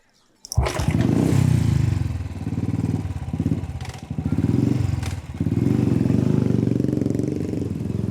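A motorcycle is kick-started in a village, catching with a sudden thump and settling into a loud, rough idle punctuated by a few revs that rise and dip before holding steady.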